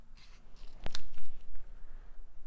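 Scissors snip through stamped card paper: a sharp close cut followed by a soft crunchy rustle of the paper being trimmed, fairly loud with no talking.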